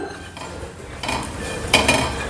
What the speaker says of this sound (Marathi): 1 वाटी खोबरं खिसून घेतलं मी, ते पण मंद गॅसवर भाजून घेते।